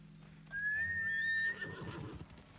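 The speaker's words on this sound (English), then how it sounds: "I'm calling my horse" A horse in the Ghost of Tsushima video game gives a loud, clear whinny, rising and held for about a second, followed by a softer, rumbling patter of hooves approaching.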